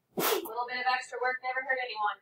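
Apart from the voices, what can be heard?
sneeze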